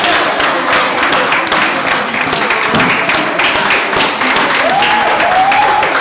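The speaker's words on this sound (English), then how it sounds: "Give yourself a round of applause" A big audience bursts into a full round of applause at a leadership and team-building talk. The clapping is dense and sustained, loud and even from start to finish, with a few cheers mixed in.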